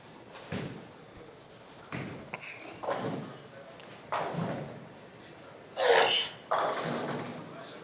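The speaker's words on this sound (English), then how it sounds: "I think in history I'm one of the loudest sneezers ever" A single loud, sharp sneeze bursting out near the mic at a bowling tournament, amid a noisy hall with thuds, distant crashes and faint voices.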